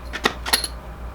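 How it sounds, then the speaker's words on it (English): Small metal keys for a Gibson Les Paul guitar case jingle and clink together in two brief, close rattles. "This is keys for the case."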